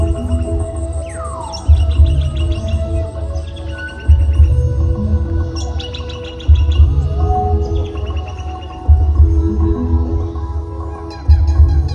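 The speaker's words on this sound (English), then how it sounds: "Shimmering birds flitted between the trees." Chirps and tweets of birds scattered over a low, pulsing background hum, with repeated calls near and far.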